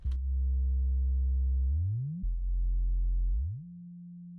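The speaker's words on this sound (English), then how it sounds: "this is how the bass sound on its own without any effect." A deep synth bass plays sustained low notes with gliding pitch slides between them, dry and clean, with no other sounds.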